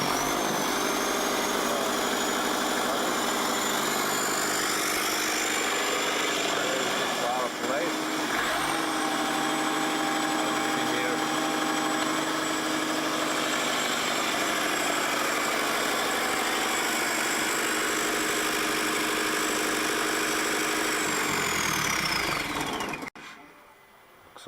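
A 20kW diesel generator engine runs steadily and close by with a constant droning hum and a high whine, while people talk over it. Near the end the engine winds down and stops.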